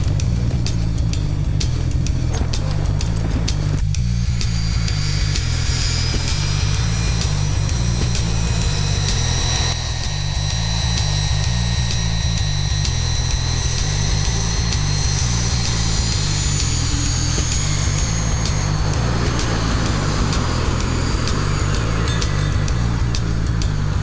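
A training aircraft's engine runs up steadily and loudly throughout, a continuous droning rumble with a pulsing low throb and a whining higher tone rising over it.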